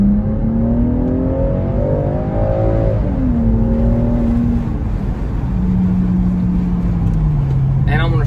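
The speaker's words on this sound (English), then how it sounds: "you can hear the turbo way, way better, and the exhaust note, the tone itself, sounds really good" Cabin view of a Land Rover Defender P400 3.0L with a muffler delete: a loud engine rises in revs, eases off, then holds a lower droning tone with turbo whir, steady and close throughout.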